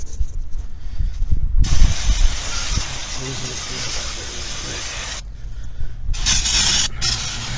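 Brake cleaner sprayed onto the brakes of a 2016 Subaru Crosstrek: a loud, close aerosol hiss in a long burst of several seconds, then two shorter bursts after a pause, over low shop rumble.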